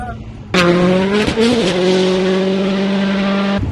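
Car driving fast through turns, a loud close engine surging in and holding a steady high drone for about three seconds, with brief shifts in pitch.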